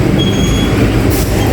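Rumble of the Serayu Malam passenger train running at night, heard from inside a carriage as a loud, steady low roar with rattling and a brief brighter hiss near the end, no voices.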